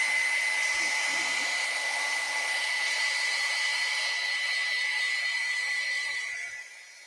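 A hair dryer blows steadily on fresh acrylic paint for several seconds, a constant close whir that fades out at the end.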